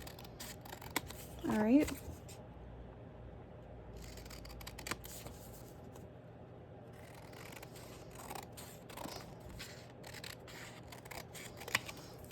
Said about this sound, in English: I'm going to try to cut this thing as straight as possible